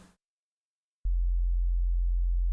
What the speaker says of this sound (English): I'll give it a test on a sine wave.